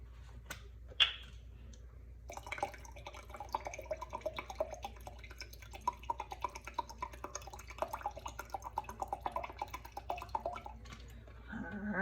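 White wine vinegar poured into a mason jar while making a fat-free salad dressing, a soft, steady liquid trickle with faint drips running for several seconds, close and quiet.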